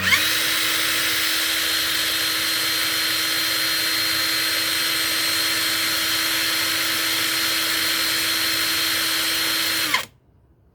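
A Monqiqi impact wrench runs freely at full speed, a loud steady high whine with a constant motor hum lasting about ten seconds before it cuts off abruptly into near silence.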